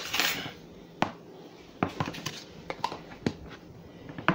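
Flour and baking powder mixed in a bowl for Dutch dumplings, heard as quiet, irregular clinks and scrapes of a utensil against the bowl, with a soft rustle at the start and no talk.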